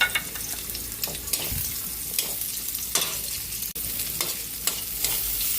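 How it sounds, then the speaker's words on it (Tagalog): Onion sautéing in a pan for pinapayahang manok, with a continuous soft sizzle and occasional spoon-stirring scrapes, close but fairly quiet. No voices. "Gigisa na. Lagyan na natin yung ating onion,"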